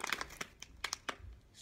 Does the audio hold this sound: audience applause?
no